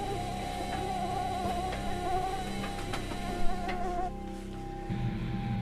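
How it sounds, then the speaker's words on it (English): A thin, high-pitched mosquito whine drones steadily close by, wavering slightly in pitch, with a few faint knocks and clicks in the background, in a supernatural horror short film. "Mosquitoes!"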